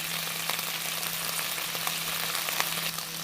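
Mussels cook in a pan with a splash of white vinegar, giving a steady, loud sizzle with scattered small pops and crackles throughout and no voices.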